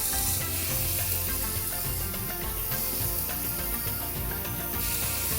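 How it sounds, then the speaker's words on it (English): Keema sautéing with tomatoes and yogurt, a dense, loud continuous sizzle with rapid rhythmic stirring scrapes close up, no voice. "Now saute the tomatoes with the keema for 2 minutes"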